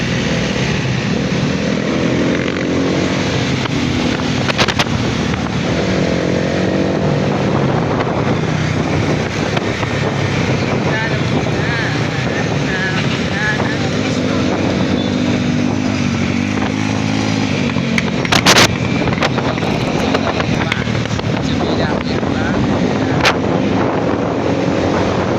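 A 100cc motorcycle ridden fast at night, heard from on board: a continuous engine drone buried under heavy rushing wind buffeting the microphone, with occasional sharp thumps and bursts.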